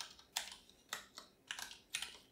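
Code is typed on a computer keyboard in quiet, close bursts, four or five clusters of crisp key clicks with short pauses between them, heard alone.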